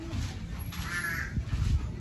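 A single crow caws once in the distance, faint against outdoor background noise and low murmuring.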